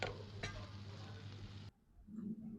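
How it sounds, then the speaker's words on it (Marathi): A turmeric vegetable dish fries on a low flame with a steady close sizzle and a stirring scrape, then the hiss abruptly drops away into quieter clatter near the end; no one speaks. "लो फ्लेमवरच आपल्याला ही फ्राय करत राहायची आहे."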